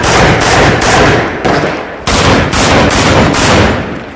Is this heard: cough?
no